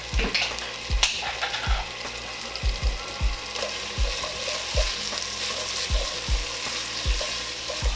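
Minced garlic fries in the pot for a beef stew, a steady close sizzle broken by a series of irregular scraping stirs and a few utensil knocks.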